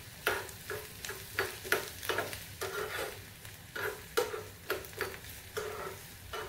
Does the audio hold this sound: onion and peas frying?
yes